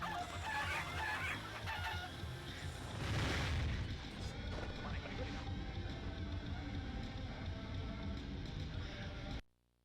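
Chickens cluck and squawk over loud, layered game sound in Crash Twinsanity, forming a continuous bird chorus through most of the stretch before it cuts off abruptly at the end.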